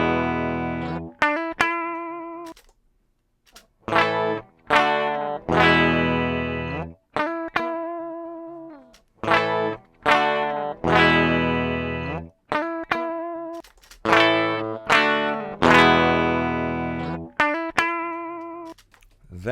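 An electric guitar played through an amplifier for a tone comparison, short bright strummed chords and notes with pauses between, clean and close-miked.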